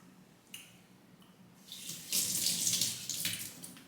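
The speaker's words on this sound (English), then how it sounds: "Let me rinse this off." Water runs from a tap to rinse something, a quiet splash at first building into a steady close hissing stream over a sink, with a few brief interruptions.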